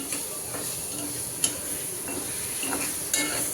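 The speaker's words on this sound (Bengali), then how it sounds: "তো পেঁয়াজটা একটু নেড়ে চেড়ে" Chopped onion with potato and green chili fries in generous oil while being stirred, a faint steady sizzle with a few light scrapes and taps of the spoon, close but quiet and without speech.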